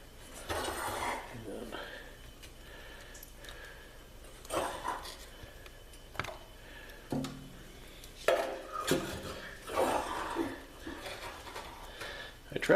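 A homemade metal fork scrapes and rakes ash and hot coals inside a Blaze King Princess 32 wood stove, bursts of gritty scraping and metallic clinks separated by quieter pauses.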